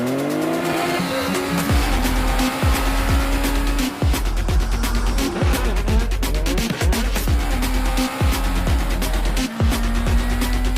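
A GTR racing car engine screams loudly, rising through the revs in repeated sharp bursts as it shifts gears in quick rhythmic succession, heard up close on its own.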